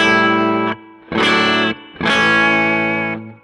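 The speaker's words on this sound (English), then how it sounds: "I also added a spring reverb." Sustained electric guitar chords with a distorted tone and a splashy spring reverb tail from a Quad Cortex's built-in reverb, played in three separate strummed bursts with short pauses.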